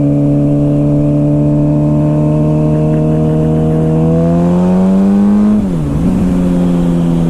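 A 2007 Suzuki GSXR 600 motorcycle engine accelerates on a cold, wet road, its loud, close whine climbing steadily in pitch before dropping sharply as the rider shifts, then pulling on again.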